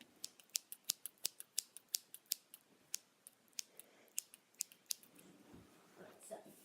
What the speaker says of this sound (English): You know how I cut tape with my scissors.